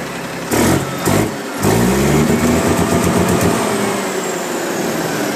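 A used pickup truck with an aftermarket S-type exhaust and electronic throttle revs up close: a couple of short blips, then a loud, sustained rev that holds steady, with no talking.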